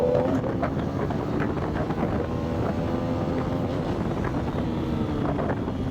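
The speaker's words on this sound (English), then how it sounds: "I'm assuming you can also hear the engine scream and the motor scream." A Hero Xpulse 210 motorcycle engine drones steadily while riding, its continuous hum partly buried under heavy wind buffeting on the microphone, with no speech.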